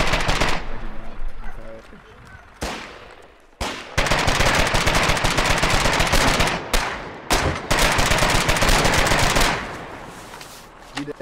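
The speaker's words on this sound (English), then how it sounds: "Just an SMG." Submachine gun fire in the Foxhole war game rattles out in loud, rapid bursts, several long volleys separated by short gaps, dominating the mix up close.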